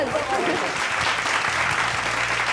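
Audience applause in a studio during a singing audition-style show, steady clapping with low music-like tones underneath, filling the short stretch.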